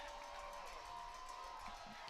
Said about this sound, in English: Danville crowd loving this,